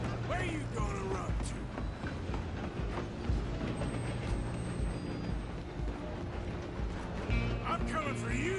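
Moving train in a Red Dead Redemption 2 western game: a steady rumbling clatter of wheels and railcars runs throughout, with occasional squeals and background voices over it.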